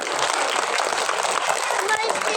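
School event audience clapping for the school's teachers, a dense steady spread of many hands applauding together, continuous and fairly loud throughout.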